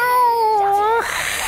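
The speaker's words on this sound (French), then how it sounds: "c'est mon chat, là" A house cat meows loudly and close by in one long, drawn-out call with a falling then rising pitch, cut off sharply, followed by a brief noisy hiss of background sound.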